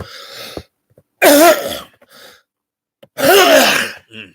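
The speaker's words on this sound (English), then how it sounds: "When you cough like that, it's like hurts." Two harsh, forceful coughs ring out close to the microphone, separated by quiet breaths and small throat sounds.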